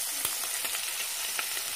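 Cooking oil poured over boiled meat in a pot, giving a steady, moderate sizzle with faint crackles and stirring clicks throughout.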